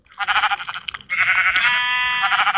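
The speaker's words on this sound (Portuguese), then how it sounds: "Aqui tá vindo ovelha branca." White sheep in the Minecraft video game bleating repeatedly, loud and close, with wavering nasal cries in quick succession and no talk over them.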